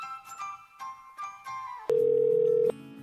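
A telephone call being placed: short tonal beeps of dialing followed by a steady, loud ringback tone lasting under a second, then a softer tone.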